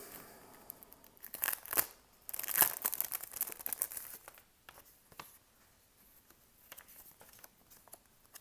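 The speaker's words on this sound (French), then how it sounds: "On va venir coller notre étiquette bleue." A blue sticker label is pressed onto a Pokémon Blue game cartridge, giving close, soft crinkling and patting taps with a few sharper rubs, quiet overall and with no voice.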